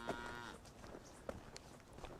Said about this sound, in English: So I can see a herd of cows here.